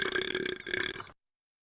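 A single loud, drawn-out burp lasting about a second, gurgling with a brief dip midway, then cutting off abruptly into silence.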